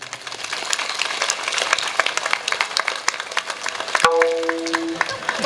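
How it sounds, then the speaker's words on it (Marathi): Audience clapping at a kirtan, a dense continuous patter of many hands that runs throughout, with a sharp louder clap and a brief ringing tone near the end. "म्हणून टाळी वाजवली पाहिजे"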